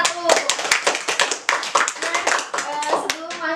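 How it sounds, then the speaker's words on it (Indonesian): A classroom of students breaks into brisk, loud applause for the first discussion group, dense overlapping claps with voices mixed in. "Kasih tepuk tangan dulu untuk kelompok 1."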